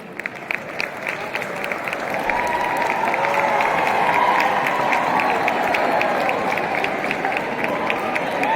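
Sustained applause from a large audience at a flag hoisting ceremony, dense clapping that swells and holds loud for several seconds, with crowd murmur mixed in.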